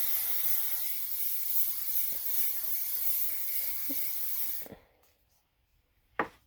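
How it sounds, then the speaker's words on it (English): Flex hairspray mists over freshly curled hair in a long, steady hiss lasting several seconds, then stops abruptly, followed by quiet and a couple of small clicks. "some Flex hairspray."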